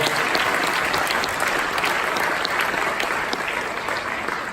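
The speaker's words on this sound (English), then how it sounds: "Give our volunteers a big round of applause if you would." Hearty round of applause from a high school audience for volunteers after a hypnosis show, dense and steady, loud at first and easing slightly toward the end.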